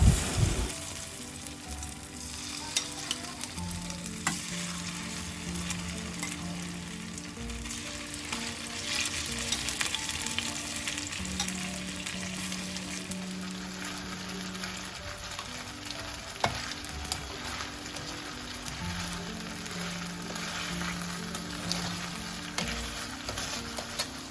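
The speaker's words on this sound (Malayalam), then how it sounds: "ചിക്കൻ നന്നായിട്ട് ബ്രൗൺ ആവുന്നത് വരെ ഫ്രൈ ചെയ്തെടുക്കാം" Chicken pieces frying in hot oil in a pan, a steady, crackling sizzle that carries on alone with a few faint stirring knocks.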